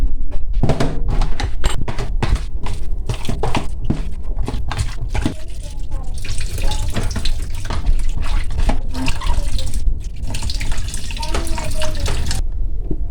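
Tap water streams steadily into a sink as softened papaya is rinsed and handled, with continuous splashing and clattering close up throughout.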